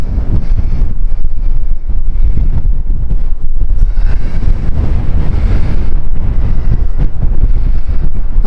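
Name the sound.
blustery wind on a cliff top by the sea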